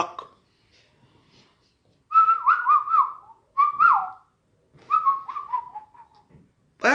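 Several bursts of melodic human whistling, rising and falling tones in short phrases with pauses between, fairly close and clear against a quiet background.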